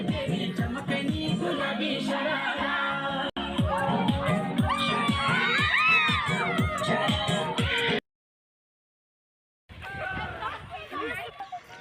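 A crowd shouts and sings while dancing at a Saraswati puja celebration, a dense, loud chorus of voices over rhythmic clapping or drumming, briefly cutting out before the shouting resumes.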